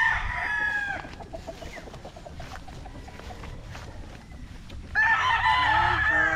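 Young gamecock stags crow loudly near the start and again at the end, with scattered clucking and farmyard bird calls in between.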